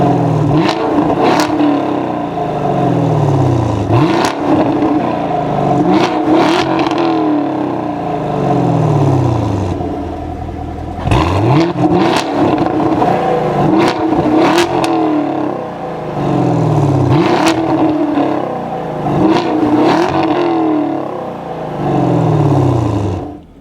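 A car exhaust with its bypass valves open revs repeatedly, each loud blip rising sharply and then falling away, several rev cycles in a row with brief pauses between them, close and powerful.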